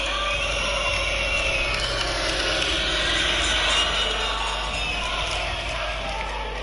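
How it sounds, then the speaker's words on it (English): A crowd at a club cricket match between Great Bromley and East Bergholt cheers and shouts continuously, a dense wash of voices at a steady, lively level throughout. "And the crowd really are getting stuck into it now."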